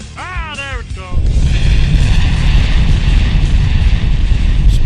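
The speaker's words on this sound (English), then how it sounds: "Explosion." An explosion sound effect played during a live talk show stream erupts after a brief voice, then holds as a loud, sustained rumbling roar with crackling debris for several seconds.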